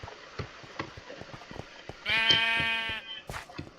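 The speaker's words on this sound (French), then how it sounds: "il y a le bruit de mouton alors qu'on est dans la grotte là?" A sheep bleats once in the Minecraft video game, a clear wavering bleat of about a second inside a cave setting, amid soft footsteps and game noises.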